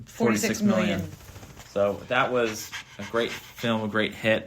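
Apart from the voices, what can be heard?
dog panting in background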